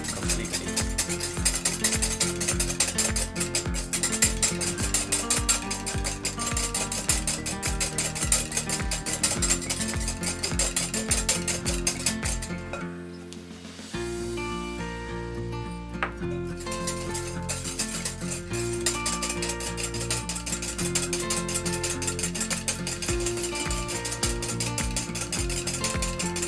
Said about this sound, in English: now we're going to start adding 30 ml of caster sugar in 3 separate parts. Whisk it in completely.